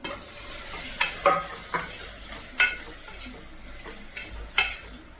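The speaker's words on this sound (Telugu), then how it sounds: "చూడండి, మన బోటి మంచిగా నూనెలో ఫ్రై అయింది కదా" Goat tripe fries in oil with ginger-garlic paste and turmeric, a continuous sizzle punctuated by sharp clinks and scrapes of a spoon against the pan every second or so.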